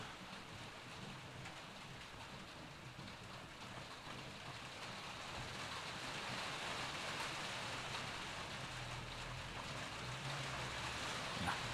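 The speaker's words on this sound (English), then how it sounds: "now it's raining really hard" Heavy rain pours down outdoors as a dense, steady hiss, growing slightly louder partway through, with no talk.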